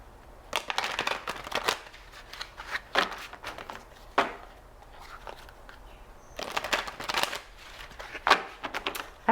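A deck of tarot cards is shuffled by hand close up, giving bursts of crisp riffling and flapping with short pauses between passes, and no talking.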